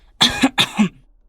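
Two sharp, close coughs from one person in a corridor at night, in quick succession, with silence around them.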